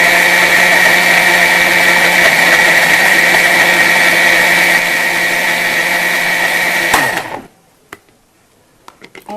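A blender mixing ice cream whirs loudly and steadily for about seven seconds, then winds down abruptly and falls nearly silent, followed by a few soft clicks.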